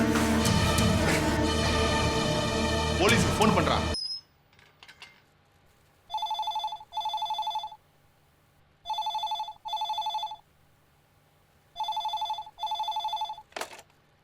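A telephone rings in bursts after loud music cuts off. Three pairs of electronic double rings sound clearly in a quiet room, each pair followed by a pause, and a short click comes at the end.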